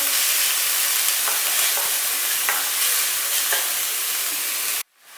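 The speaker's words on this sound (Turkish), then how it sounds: "Yemeklik doğradığım bir tane soğanını sıvı yağın üzerine ekliyorum." Steady, dense sizzling of chopped onion frying in hot vegetable oil, with occasional faint stirring clicks, continuous and fairly loud until it cuts off abruptly near the end.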